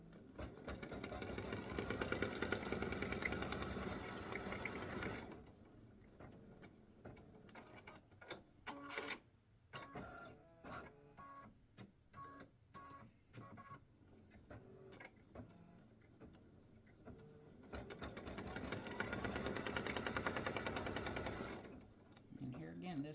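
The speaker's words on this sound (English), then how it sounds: "this is going to stitch the golf clubs and the little design that goes down here at the bottom" An embroidery machine with a small 4x4 hoop stitches a golf clubs design onto a Father's Day greeting card, a steady mechanical whirring that runs loudly at the start and again near the end, with a person talking in the quieter stretch between.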